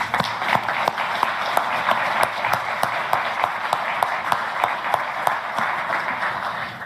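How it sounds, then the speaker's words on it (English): An audience at an anti-ISIS coalition ministerial applauds the Iraqi Foreign Minister with sustained clapping, individual sharp claps standing out over a dense crowd wash that runs steadily throughout. "Let's give him a round of applause."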